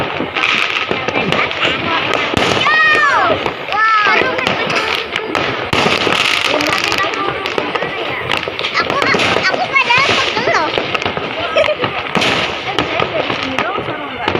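Firecrackers explode on New Year's Eve in dense, rapid crackling bursts that go on throughout, with people talking and calling out in the background.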